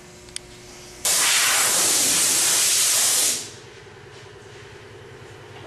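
Compressed air blasts onto a metal aircraft wing in one loud, steady hiss of about two seconds before tapering off, with quiet hangar room tone around it.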